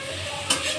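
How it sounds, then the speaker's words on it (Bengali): A spoon stirs cooked rice in a pot, a brief soft scraping with a light sizzle in the background and one sharper clink partway through. "হ্যাঁ, ভাত নাড়াবো"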